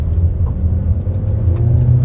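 A Honda car with a CVT pulls away from a stop under full throttle, giving a steady, droning engine rumble with little change in pitch, heard from inside the cabin with no talk.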